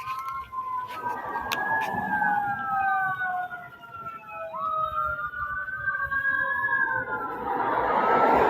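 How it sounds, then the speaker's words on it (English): Fire engine and ambulance sirens wail together with overlapping rising and falling tones as the vehicles race along a road. The sound grows louder toward the end, over traffic noise. "Now check this: the fire engines."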